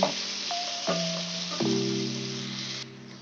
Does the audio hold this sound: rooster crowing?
no